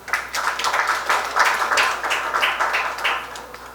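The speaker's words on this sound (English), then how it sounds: "I didn't expect you to clap" An audience at a Law Society plenary claps together, a steady, moderately loud patter of many hands that swells and holds for a few seconds without talk.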